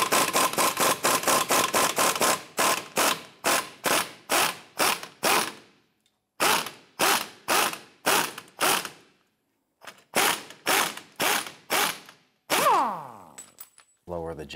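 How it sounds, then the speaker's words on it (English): A ratchet wrench loosens a 15mm bolt on the rear forward suspension link arm of a 2005-2007 Ford Five Hundred, with loud, close bursts of fast pawl clicking broken by short pauses as the handle swings back and forth. "That's a 15mm bolt. Let's go ahead and loosen that bolt."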